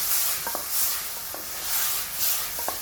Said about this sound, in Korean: 간장 하나 굴소스 하나 바로 볶아주시면 돼요